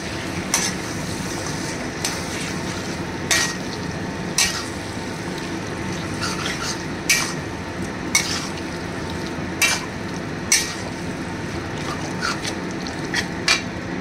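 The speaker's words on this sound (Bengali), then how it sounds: "দিয়ে এবার ভালো করে নাড়বো, চিকেনটাকে কষাবো।" Marinated chicken frying in a cooked-down spice paste in a pan, a steady low sizzle with sharp periodic scrapes and knocks of a spatula stirring roughly every second or two, close and without talk.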